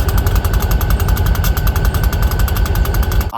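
A True Blast sound chip in a GP30 model diesel locomotive produces a loud, steady rhythmic engine chug with a buzzy electronic edge, continuous and close, ending abruptly.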